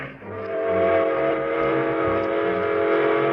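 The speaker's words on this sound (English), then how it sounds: "The train engines tooted their whistles longer and louder" Steam train engines blowing long, loud whistles as a radio drama sound effect, a sustained steady tone with chugging rumble underneath, close and continuous.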